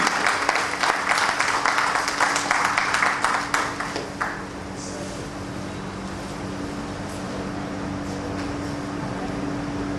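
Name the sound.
audience applause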